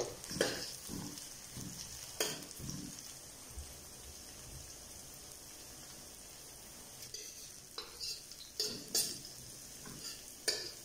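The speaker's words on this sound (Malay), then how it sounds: "Kita goreng sampai sedikit kekeringan." Steady sizzling of ginger, galangal and onion frying in a hot pan, with occasional clicks and scrapes of stirring, fairly quiet and with no talking.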